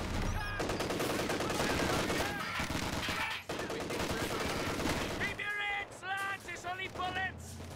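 Dense gunfire from a Company of Heroes 2 four-versus-four battle: sustained loud machine-gun bursts and rifle shots close up, mixed with game noise, and soldiers' voices shouting toward the end.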